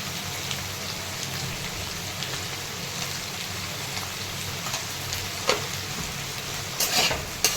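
Cluster beans sizzling in oil with cumin, mustard seeds and garlic, a steady crackling fry with occasional stirring scrapes and clinks, close and continuous.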